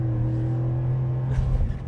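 Full-size V8 pickup truck in four-high accelerating hard through a 0 to 60 run, heard as a loud, steady low engine drone that swells briefly near the end, with no talking.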